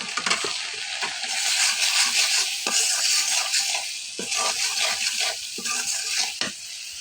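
Spices with cumin, garam masala and salt being stirred and sautéed in a pan for a hog plum pickle, a steady close sizzle broken by repeated scraping and stirring knocks.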